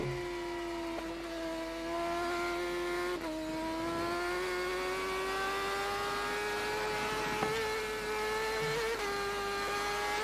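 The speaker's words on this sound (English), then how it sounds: "I'm enjoying the bike sound, like, it's beautiful." A BMW HP4 racing motorcycle engine holds a high, steady whine on an Isle of Man TT lap, with small pitch shifts as it shifts gears.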